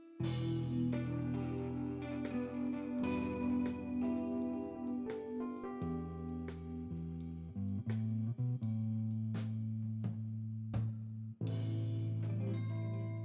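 Overdriven electric guitar through a Nux Duotime dual delay pedal with overdrive, distortion and fuzz plays sustained, distorted chords and single notes with echoing repeats, loud and continuous, with no voices.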